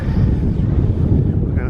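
Strong wind buffets the microphone on a cold, windy bridge at a zoo, a loud continuous low rumble filling the short stretch, with a voice partly audible beneath.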